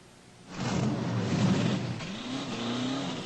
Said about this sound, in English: The roar of the engine, the screech of the tires